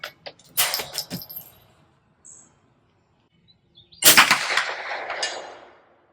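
Two sharp, loud reports from a Federal .22 LR high-velocity hollow-point rifle cartridge fired outdoors during chronograph testing, the first near the start with brief echoing tail, the second about four seconds later with a longer fading decay.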